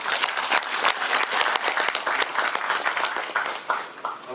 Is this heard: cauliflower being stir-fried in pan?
no